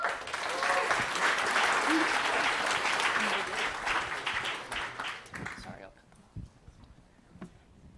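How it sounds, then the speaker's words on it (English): Audience applause welcoming a team to the stage at the Collider Cup, a full, sustained burst of clapping that tapers off abruptly around the sixth second, leaving a quiet room with faint stray sounds. "please join me in a round of applause to welcome AlkaLink to the stage"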